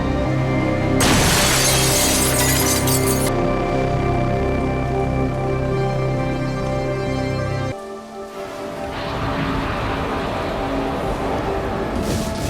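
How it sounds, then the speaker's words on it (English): Glass shattering in a TV drama scene, a sharp crash followed by a couple of seconds of scattering shards over a steady music bed, which then gives way to quieter background sound. "He's going to break the glass."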